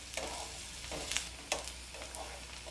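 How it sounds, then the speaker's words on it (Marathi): Onion sautéing in a pan for a sweet-and-sour chutney gives a soft, steady sizzle with occasional spatula scrapes and stirring clicks, fairly quiet and without talk. "कांदा आपल्याला 1 मिनिटभर परतून घ्यायचा आहे।"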